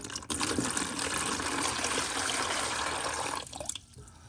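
Water drains sediment out of a well water pressure system in a steady, loud rush and gush that holds for several seconds before dropping away near the end.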